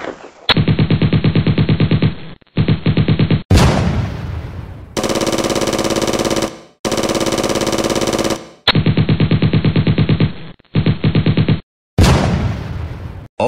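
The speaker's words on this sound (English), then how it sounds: "here are many enemies and they directly shoot us when we come to them" Enemy gunfire in the Roblox game Flag Wars: loud, rapid automatic bursts rattle in long strings, broken by short gaps and a few sharper blasts, with no speech.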